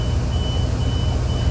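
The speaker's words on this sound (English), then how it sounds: "That beeps for a minute to let us know that it's full." An overhead grain bin's full alarm beeps in a thin, steady repeating tone at a corn-shelling site, heard over loud continuous machinery rumble from the dryer and equipment.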